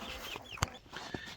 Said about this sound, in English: I'll show you all this rooster here